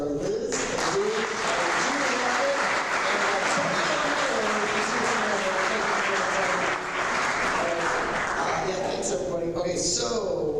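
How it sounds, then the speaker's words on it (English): An audience at a public meeting in Skaneateles claps steadily for about ten seconds, a fairly soft, even wash of applause with voices murmuring beneath it. "How about a round of applause for Liz, Dave,"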